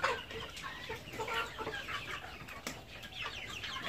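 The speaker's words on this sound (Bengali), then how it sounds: "আমাদের প্রত্যেকটা মুরগি একে একেবারে সেম সাইজের আর একেবারে ফ্রেশ" Desi chickens of uniform size cluck at a farm, a steady mix of soft overlapping clucks and chatter from a flock close by, with no talk over them.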